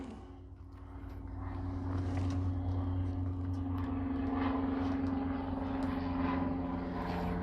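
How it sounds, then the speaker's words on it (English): A propeller airplane passes by outside an open window, a steady low engine drone that swells slightly and holds at moderate distance, with no talking. "windows open and the plane's going by"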